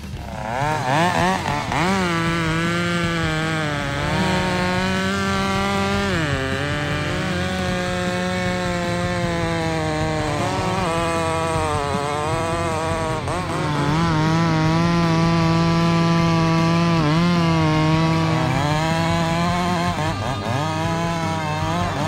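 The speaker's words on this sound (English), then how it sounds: "the power of a chainsaw can conquer even the largest and strongest tree trunks." A chainsaw engine drones loudly and continuously as it cuts into a large tree trunk, its pitch sagging under load and rising again in waves, with no voices.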